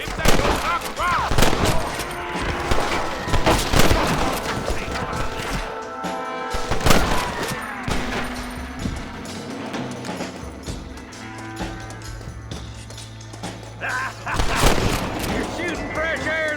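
Rapid, loud gunshots and rattling volleys in a Red Dead Redemption shootout, dense cracks in the first half thinning to scattered shots, with a spoken voice woven through and a low sustained drone near the end.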